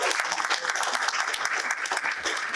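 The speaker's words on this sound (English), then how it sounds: "So if we can give them a quick round of applause." A quick round of audience applause at a Tiger Jeet Singh Foundation Miracle on Main Street toy drive launch, brisk crowded clapping that stays loud and even across the brief burst.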